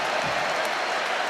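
Applause ringing around Anfield after a goal in the Euro 96 Russia v Czech Republic group match: a steady wash of distant crowd clapping and cheering, brief and unbroken.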